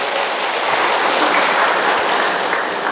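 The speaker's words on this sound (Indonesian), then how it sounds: "Tepuk tangan dulu untuk para doang." A church congregation applauds its elders, steady dense clapping from many hands filling the space without a break.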